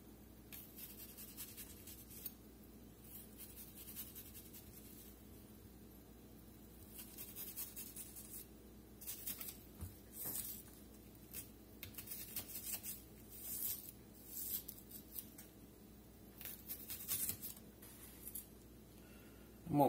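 A knife slices a shallot on a cutting board, giving faint, scratchy, repeated strokes that come in uneven bursts over a quiet kitchen background.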